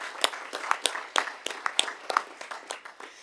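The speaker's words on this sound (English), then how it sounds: "let's give a round of applause to Montgomery Central Elementary" Round of applause for an elementary school at a school board meeting, a small group clapping with sparse, uneven individual claps at moderate distance.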